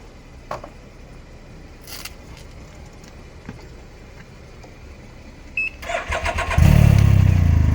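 After a quiet stretch with a few clicks and a beep, a Can-Am Ryker three-wheeled motorcycle engine cranks and catches, settling into a loud, rumbling idle up close.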